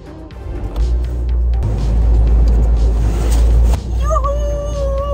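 A campervan with an automatic gearbox pulls out of a parking lot, a loud low engine rumble that rises and holds, then eases as a high whining tone comes in near the end.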